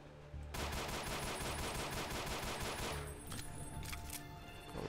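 Rapid automatic gunfire from the GZDoom mod Ashes 2063 video game, a continuous dense burst of shots lasting several seconds with no talking.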